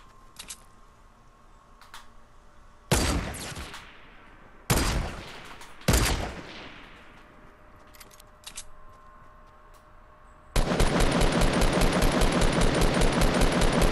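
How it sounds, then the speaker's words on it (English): Gunfire in the Fortnite battle royale game as shots hit a loot crate: a few separate loud bursts, then a long rapid run of automatic fire at the end, with no talking. "Someone's shooting at it."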